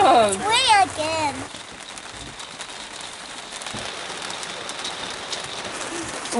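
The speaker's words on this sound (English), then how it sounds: "It's hailing! It's raining again!" Rain patters steadily at a campsite, with hail mentioned and a campfire nearby. Excited voices shout over the rain at the start, then a soft wash of rain continues under occasional sounds.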